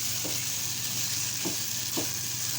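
Vegetables frying in a pan for a breakfast dish, a steady close sizzle throughout with a few soft stirring scrapes and no talking.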